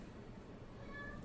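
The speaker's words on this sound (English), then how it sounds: "Our cat's meow." A pet cat gives a faint, brief meow from a distance. It is barely audible beneath a low, steady background hum.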